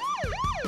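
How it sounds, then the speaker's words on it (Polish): An emergency siren wails loud and close, sweeping steadily up and down in pitch through a couple of quick cycles. "Co to? Syrena?"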